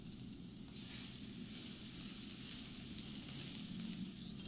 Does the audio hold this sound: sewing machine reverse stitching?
no